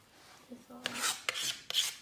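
A palette knife scrapes and mixes thick Prussian Blue, Midnight Black and Alizarin Crimson oil paint on a palette, making a few short, close rasping strokes with faint pauses between them.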